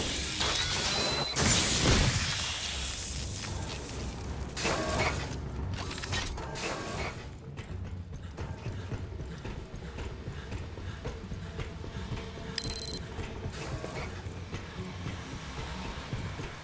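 A big freight elevator grinds up the main tower in Aliens: Fireteam Elite, with steady mechanical rattling, creaking and clanking gear noise, heavier clunks at the start and brief metallic squeals along the way, and no talk.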